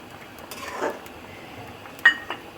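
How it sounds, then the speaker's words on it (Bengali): A lid lifted off a pot of simmering cauliflower and potato with lentil dumplings gives a faint shuffle, then a single bright metallic clink that rings briefly, followed by a softer tap. "ঢাকনাটা তুলে দেখছি, সবজিটা হয়ে এসছে।"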